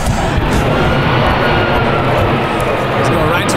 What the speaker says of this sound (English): Show you how low this primary plane is.